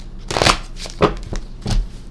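Tarot cards being shuffled in three quick riffling bursts, close and fairly loud, with no talking during the clip.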